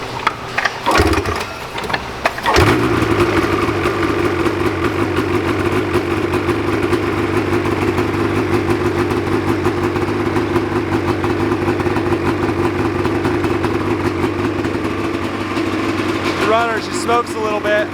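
A two-stroke RZR engine cranks and catches after a couple of sputters, then settles into a loud, raspy, steady idle with a buzzing drone, running close by while people talk over it.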